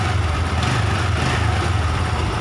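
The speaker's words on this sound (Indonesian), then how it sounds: "kita coba dulu apakah motornya bisa hidup" A Honda Revo motorcycle engine with a fault that makes it stall when the throttle is opened idles with a steady, low, even rumble, close by and with no speech.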